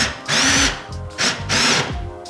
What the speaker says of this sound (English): I'm gonna take my drill with a little tiny drill bit and basically do a pilot hole